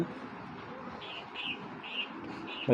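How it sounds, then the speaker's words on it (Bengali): Soft cooing from an old breed of pigeon repeats several times at moderate distance over a quiet background, with a brief louder sound at the very end. "এগুলো পুরান জাতের কবুতর"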